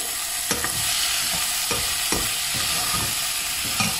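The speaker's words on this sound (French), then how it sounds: "j'ai rajouté les oignons émincés. Je les laisse revenir un petit peu." Sliced onions sauté in a hot pan with a steady close sizzle, broken every half second or so by the scrape and clatter of a utensil stirring them.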